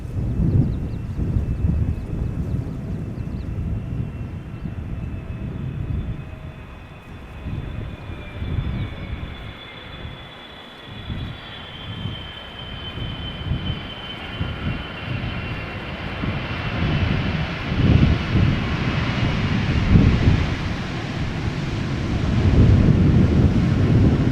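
A KLM Boeing 747 lands at Schiphol without reverse thrust, its engines giving a broad, rumbling roar with a faint whine that builds over time, heard from a distance outdoors with wind buffeting the microphone.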